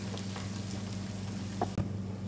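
Onions sizzle quietly in a hot frying pan, a steady soft crackle with a low hum behind it and a couple of brief clinks from stirring near the end.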